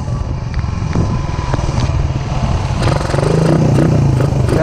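A motorcycle fitted with a Koso Evo 30mm carburetor revs hard and loud close by, with a rough, uneven, sputtering edge. It swells slightly louder near the end.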